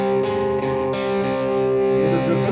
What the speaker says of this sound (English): you can actually get quite a nice dissonance out of your distortion sound as well